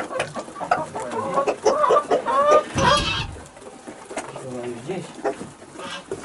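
Chickens cluck in quick bursts close by in the evening as hens and geese are herded to their places, with louder squawks in the middle and people talking over the flock.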